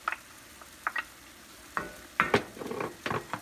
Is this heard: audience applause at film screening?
no